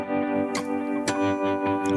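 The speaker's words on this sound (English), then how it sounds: "A bit of tremolo on there, there's some delay, and of course some reverb." Electric guitar triads ring out through tremolo, delay and reverb, with sustained chords pulsing in volume, struck notes at regular intervals and echoes trailing off into a washy tail.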